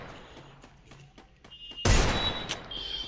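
Gunfire in a multiplayer shooting video game: a few soft clicks and taps, then a sudden loud burst of shots with a sharp crack afterwards, close and prominent.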